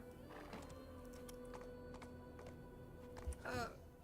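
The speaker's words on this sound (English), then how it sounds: "Let's get off the horse." A horse in the video game Black Desert Online gives a neigh near the start and another near the end. Soft, regular clip-clop steps and faint game tones sit between them, all at low volume.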